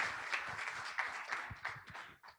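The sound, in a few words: applause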